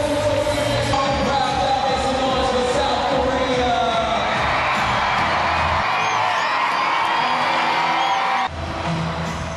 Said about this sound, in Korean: 자신의 나라가 아니더라도 모두들 참가팀들의 퍼레이드를 환호하며 맞이한다